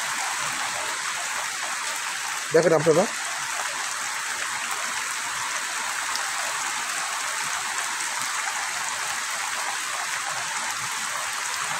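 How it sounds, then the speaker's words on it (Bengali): A torrential downpour in Satkhira hisses in a steady, dense wash of rain, with a short burst of speech cutting in near the start. "মুষলধারে বৃষ্টি হচ্ছে"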